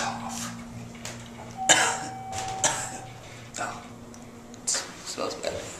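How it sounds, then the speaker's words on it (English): A person coughs a few times in short bursts, close by, with talking around the coughs. "Cover your cough."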